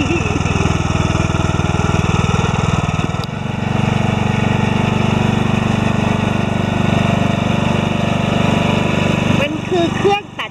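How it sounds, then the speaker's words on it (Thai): A steady engine drone, like a lawn mower running nearby, holds throughout with a brief change in pitch partway through and a voice speaking over it. "มันคือเครื่องตัดหญ้า"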